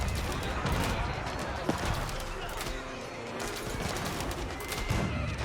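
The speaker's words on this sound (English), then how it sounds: "Hand cannoneers have to just shoot on everything in front of him." Crackling volleys of hand cannon gunfire from massed hand cannoneers in an Age of Empires 4 battle, rapid overlapping shots with clatter and hooves beneath, under steady commentary.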